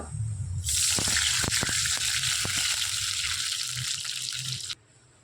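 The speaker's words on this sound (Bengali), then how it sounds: "এবার আমি দিয়ে দিচ্ছি এক বাটি পরিমাণে জল" A bowl of water is poured into a pan with fried cumin seeds, a loud steady gushing splash lasting about four seconds with a few knocks, then stopping abruptly.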